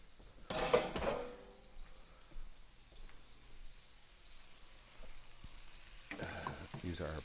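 Peppers frying in a pan beside Italian sausage, a close crackling sizzle with a loud burst of spatter early on and utensil scraping and clatter near the end.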